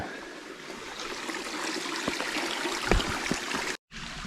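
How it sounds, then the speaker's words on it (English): A feeder stream and brook flowing through a remote Vermont valley, a steady close rush of running water with small splashes, briefly cut off near the end. "There's a feeder stream right over there, and then the brook just takes a hard right."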